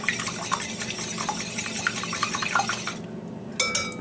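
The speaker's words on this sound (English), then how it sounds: "Give that a whisk." Eggs with salt being whisked in a bowl, rapid rhythmic clinking taps against the side that continue for about three seconds before a few louder knocks.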